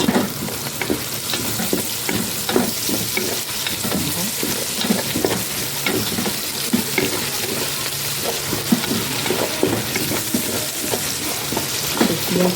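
Onions cooking in a pan with two and a half spoons of honey, stirred repeatedly so scraping strokes come in a regular rhythm over continuous close sizzling, with no talking.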